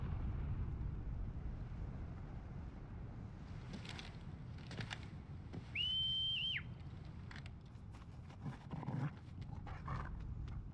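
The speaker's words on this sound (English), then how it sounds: "you have a whistle for both Ambrosia and Torgal" A whistle in Final Fantasy XVI calls Clive's chocobo Ambrosia and wolfhound Torgal, sounding as one bright sustained tone of about a second over a low rumbling game backdrop, with scattered thuds and rustles around it.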